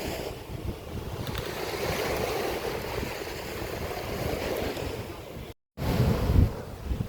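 Ocean waves wash steadily in an outdoor seaside setting near Dubai, a broad rushing surf mixed with heavy wind buffeting on the microphone, continuous apart from a brief cut near the end.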